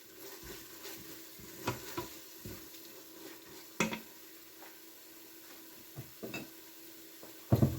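A pot of thirteen-bean soup bubbles at a low simmer, a soft, quiet burbling punctuated by a few sharper pops and light clinks near the end.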